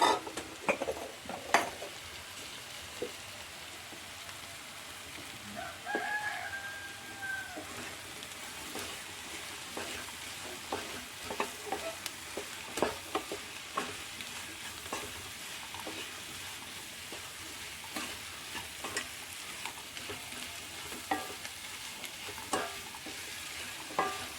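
Okra stirs and fries in a pan after salt goes in. A spoon scrapes and clicks repeatedly against the pan in an uneven rhythm over a soft, continuous sizzle, fairly quiet and close.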